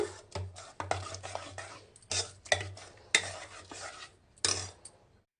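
A spoon scrapes and stirs through mango rice with salt and chili powder in a pan, giving a series of irregular close scraping strokes and light metallic clinks with short pauses between them.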